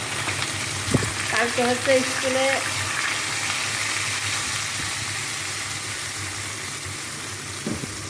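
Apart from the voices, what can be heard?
water added to fried fish, sizzling in pan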